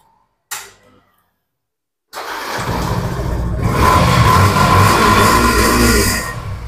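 A used motorbike with a December 2020 engine in mint condition, at a bike showroom: a sharp click, a pause, then the engine fires and runs loud and steady at close range, rising slightly in pitch before holding a rough idle.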